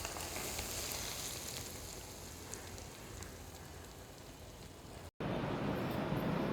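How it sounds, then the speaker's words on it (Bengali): Hot mustard oil poured over an olive and garlic pickle crackles in a dense, steady, rain-like sizzle. It stays fairly faint throughout, with a brief break near the end before it resumes, and no voices are heard. "এবার আমি এখানে গরম করে রাখা সরষের তেল দিয়ে দিচ্ছি।"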